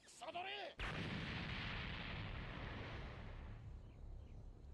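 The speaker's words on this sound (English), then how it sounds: "Sounded like a cannon explosion." A loud cannon explosion in a One Piece anime episode, a sudden heavy boom that rolls into a long rumbling roar, preceded by brief whistling sounds.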